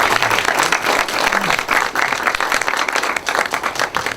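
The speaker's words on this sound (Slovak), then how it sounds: "Potlesk, prosím vás." An audience applauding at an evening poetry event, a dense, loud and steady burst of many hands clapping that fills the whole stretch with no pause.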